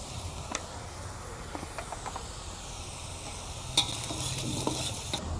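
Ground cumin and coriander fry in a pan for a restaurant-style ritha fish curry, a soft steady sizzle broken by scraping stirs and clicks of a spoon against the pan.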